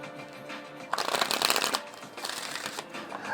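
Oracle cards being shuffled by hand nearby, a quiet stretch followed by two bursts of riffling and flicking card noise, the first louder and longer.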